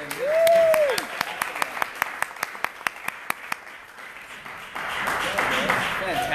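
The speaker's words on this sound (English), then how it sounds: "Everybody, big round of applause for David Corbin" An audience at a city summit and gala mastermind event applauds, with distinct evenly spaced claps ringing out over a murmur, then a denser wash of clapping and crowd noise near the end; a whistle-like tone sounds at the start.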